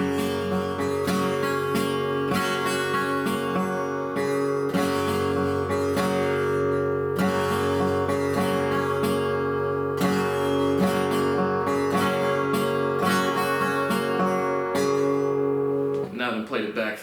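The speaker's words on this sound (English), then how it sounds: "I'll strum down in one go, just like one momentum hit all the top 4, and then pluck back to the other 3" Guitar picking pattern: the top four strings strummed down in one stroke, then three strings plucked back upward, repeating in a steady ringing cycle with sustained chords and no talking.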